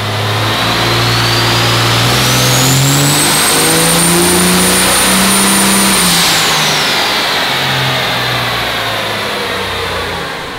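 A Quad Cab truck with a 107mm turbo and 300% injectors revs hard and close, its deep engine roar rising and holding while a shrill turbo whistle climbs, sustains, then falls away.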